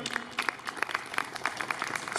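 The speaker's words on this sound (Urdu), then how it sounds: "جی بھرپور تالیوں میں" Applause from an audience at an educational conference as a guest is called to the stage, a steady patter of many hands clapping, fairly even and moderately loud throughout with no voices over it.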